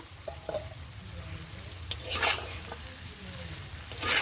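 Small fish and taro are stirred in a pan, with quiet scraping and a soft, steady sizzle, a few sharper scrapes standing out near the start and end.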